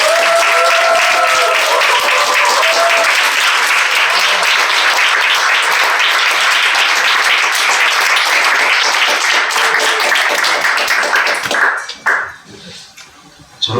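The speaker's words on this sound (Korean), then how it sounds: "박수를 모시겠습니다" A church congregation at an evangelistic gathering gives loud, dense applause that fills the room steadily, then breaks off abruptly near the end, leaving a short quiet.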